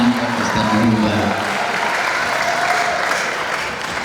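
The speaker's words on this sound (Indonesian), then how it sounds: "Tepuk tangan Ustadz Muhibat." Audience applause at a general lecture in an Indonesian boarding school, a dense steady clapping from a crowd that fills the hall and slowly thins toward the end.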